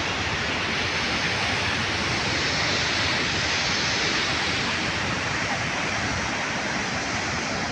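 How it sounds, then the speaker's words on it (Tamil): Loud, steady roar of rushing water pouring through Mettur Dam in Salem, a continuous broadband torrent with no pauses and no voices. "பயங்கரமாக தண்ணி போகுது."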